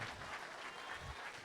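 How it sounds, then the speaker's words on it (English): Convention audience at a closing keynote breaks into a round of applause, a soft, continuous wash of many hands clapping, heard from a distance and fairly faint. "give me a round of applause"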